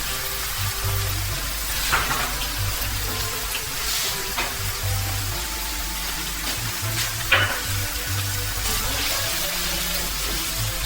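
Chicken pieces frying for chicken 65 in a pan as cumin seeds go in, a steady close sizzle with occasional stirring scrapes, no voices.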